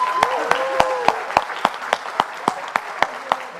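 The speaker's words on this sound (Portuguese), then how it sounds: "Palmas para a Rachel Maia." An audience at a sustainable-fashion talk event claps in a steady, rhythmic unison beat for a few seconds, close and crisp, with a voice briefly heard at the start.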